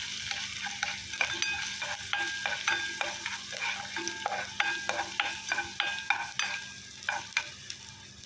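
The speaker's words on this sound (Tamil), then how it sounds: "ஒரு 4 பல்லு பூண்டை பொடிசாக கட் பண்ணி சேர்த்துக்கிறேன். கொஞ்ச நேரம் சாட்டே பண்ணிக்கோங்க." Finely chopped garlic, four cloves, sautéing in hot oil, with a steady sizzle under repeated rhythmic stirring scrapes, close and fairly quiet, no talking.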